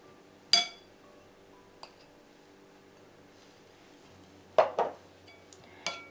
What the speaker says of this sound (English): Now I'm going to add the paneer chunks.